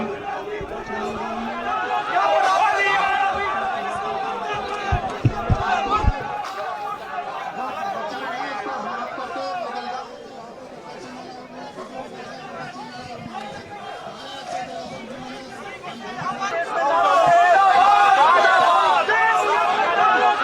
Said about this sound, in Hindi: किस तरह से कितना अग्रेसिव प्रोटेस्ट यहाँ पर बीजेपी के कार्यकर्ताओं ने किया है